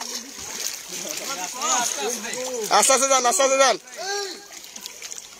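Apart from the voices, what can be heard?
splashing through floodwater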